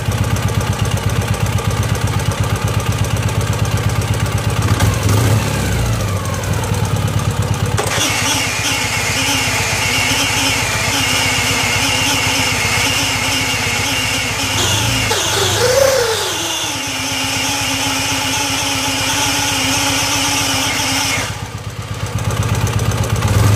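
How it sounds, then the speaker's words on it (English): A motorcycle engine idles loudly in a garage with a steady pulsing rumble, its note shifting as the bike is clicked into first gear, the engine running throughout. "here's an example of it, just sitting in the garage and me shifting into first gear"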